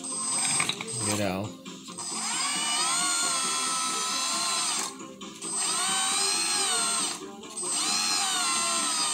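Hydraulic system of a Bruder RC mini excavator whining steadily in long runs that pause between strokes, with a brief ratcheting click near the start and a short spoken remark.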